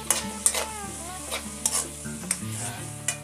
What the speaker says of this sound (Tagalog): So, ilagay natin yung toyo, ayan, 2 tablespoon.